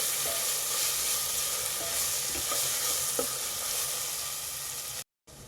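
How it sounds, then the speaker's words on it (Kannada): Ginger garlic paste frying in oil makes a dense, even sizzle with occasional soft spatula scrapes, close and continuous until a brief gap near the end. "ಚೆನ್ನಾಗಿ ಶುಂಠಿ ಬೆಳ್ಳುಳ್ಳಿದು ಹಸಿ ವಾಸನೆ ಹೋಗೋವರೆಗೂ ಫ್ರೈ ಮಾಡ್ಕೊಳ್ಳಿ"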